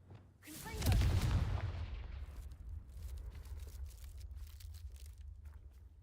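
Confringo fire spell blast in the Hogwarts Legacy video game: one heavy booming explosion near the start that rolls off into a long fading rumble, followed by quieter game background noise.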